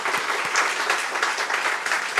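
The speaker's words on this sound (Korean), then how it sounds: "오늘 감사를 드리고 모든 영광의 박수를 하나님께 한번 드리십시다." Church congregation clapping together, a brief burst of lively applause with slightly uneven rhythmic accents, fairly close and alone.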